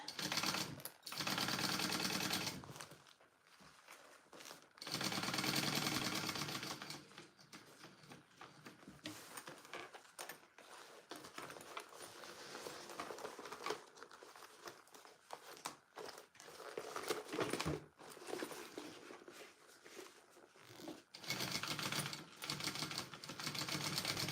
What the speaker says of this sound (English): So I'm just basting my exterior to my lining.